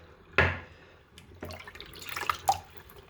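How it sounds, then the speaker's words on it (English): Water is squeezed from a wet shaving brush in a few separate bursts: a sharp splash and drip near the start, then softer wet squelches and drips, close and quiet with no talking. "Kind of squeeze the water out of that."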